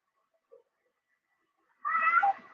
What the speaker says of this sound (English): Nobody wants to hear your meowing.